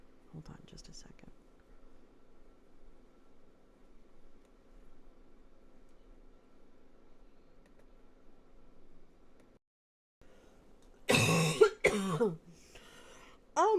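A single loud, harsh cough bursts out near the mic during a whispered ASMR bedtime reading, followed by a couple of smaller throat sounds. Soft whispering fills the quiet stretch before it.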